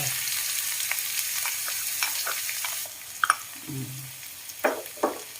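Garlic stir-frying in a little oil with salt, a bright close sizzle that softens midway, broken by several sharp scrapes and knocks of a spatula against the pan.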